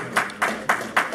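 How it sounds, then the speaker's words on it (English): A few sharp, evenly spaced hand claps, about four in just over a second, close and fairly loud, from an audience at a talk on Black Chicago politics. "Give yourself a round of applause."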